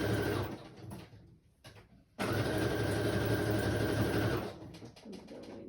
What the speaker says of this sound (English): I'm gonna sew this one real quick